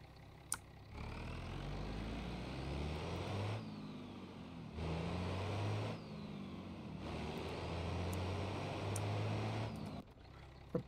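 A turbocharged car in BeamNG Drive, its engine droning steadily and rising and falling through repeated accelerations and shifts, loud and alone for about ten seconds.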